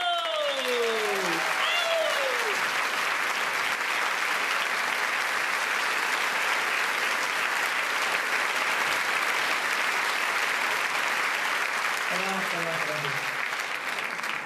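Sustained audience applause fills a live comedy show at Bobino in Paris, a dense steady clapping wash from a large crowd, with a voice speaking briefly over it at the start and again near the end.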